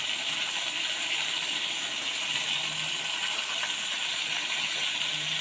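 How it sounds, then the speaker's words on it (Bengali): Tomato and potato sizzling in oil with meat in a pan, a steady close hiss of frying that runs on without a break and with no talk over it. "এবারে দিয়ে দিয়েছি টমেটো আর আলুটা, দিয়ে কষাই করছি"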